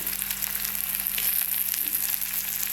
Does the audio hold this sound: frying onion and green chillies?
yes